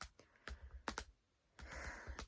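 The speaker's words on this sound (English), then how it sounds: "I'm typing it wrong." Soft, close keystrokes on a computer keyboard come in short irregular clusters with a brief pause midway, quiet overall and without speech.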